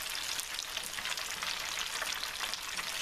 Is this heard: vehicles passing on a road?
no